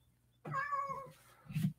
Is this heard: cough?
no